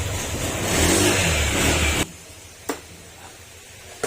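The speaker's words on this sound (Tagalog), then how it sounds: "Maingay din yung makina niya" A Honda Click 125/150 scooter engine roars loudly and rattles for about two seconds, then cuts off abruptly, leaving quiet with a couple of sharp clicks.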